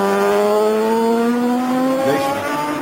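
A Norton racing motorcycle lapping the Cadwell Park circuit, its loud, close engine note climbing steadily in pitch under hard acceleration, with a brief wobble near the end and no voices over it.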